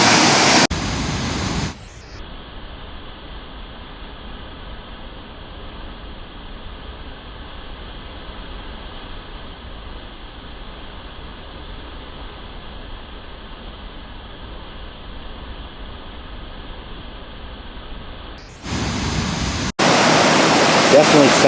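Fast-moving water from White Oak Run pours down into a mine tunnel, a steady loud broadband rush that holds constant for most of the stretch, with brief louder bursts at the very start and end.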